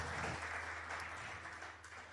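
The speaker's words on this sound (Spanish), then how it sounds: "dale un fuerte aplauso al Señor si lo quieres creer" A church congregation applauds during a service, steady dense clapping at moderate level that fades slightly over about two seconds, with a faint low hum underneath.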